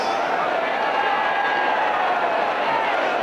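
A partisan French rugby crowd roars in the Rugby 08 video game, a steady, dense wash of cheering and shouting that holds at full level for a few seconds without letting up.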